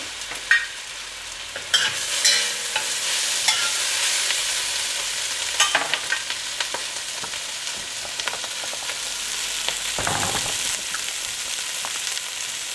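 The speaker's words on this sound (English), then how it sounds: "Vegetables on the vegetarian side are done browning." Vegetables, fennel among them, browning in a pot for a veggie spaghetti sauce: a steady close sizzle with irregular spoon scrapes and clunks against the pot, no voices.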